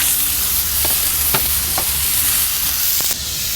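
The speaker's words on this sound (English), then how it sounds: "we're going to keep searing this larger one just a little bit more" Pork tenderloin searing over high heat on a Kamado Joe grill gives a continuous close frying hiss with faint pops and crackles, alone without speech.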